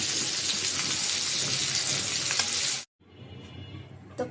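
Silver carp sizzles loudly in hot oil, a dense continuous frying hiss that cuts off abruptly, followed by a quieter sputtering sizzle, with no talk.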